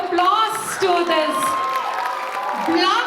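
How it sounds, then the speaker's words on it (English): Festival crowd cheering and whooping at a Sankranthi 2025 community celebration, a loud sustained wave of voices with shouts and whistles rising over steady clapping throughout. "So can we give a huge round of applause to this"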